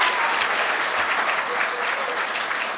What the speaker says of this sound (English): let's give another round of applause for our winners before we move on